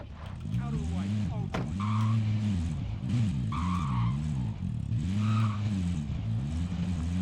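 A vehicle driven in Call of Duty Warzone, its engine droning and revving steadily while tires skid and squeal in repeated bursts, loud and continuous throughout.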